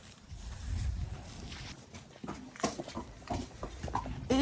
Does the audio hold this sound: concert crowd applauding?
no